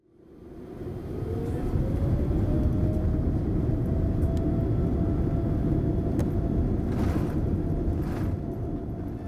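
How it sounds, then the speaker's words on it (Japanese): A low-cost airliner at Narita builds speed down the runway for takeoff, a broad engine roar swelling and holding steady, heard from inside the cabin with no one speaking. "徐々に飛行機が加速して視界が斜めになっていきます。"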